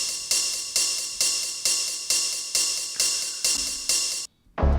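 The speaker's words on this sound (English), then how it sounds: "the name for this ride comes out of the Roland TR-909 drum computer" A Roland TR-909 drum machine ride cymbal repeats in a steady eighth-note pattern of bright, shimmering hits, each decaying quickly before the next, loud and up close before stopping abruptly.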